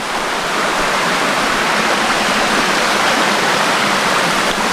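A small creek in Litchfield National Park rainforest flows beneath a treetop walkway, giving a loud, steady, dense rush of water close by with no talking.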